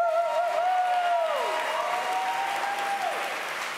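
An audience at a fall opening convocation applauds together, a steady dense roar of clapping with whistles sliding through it, fading slightly toward the end.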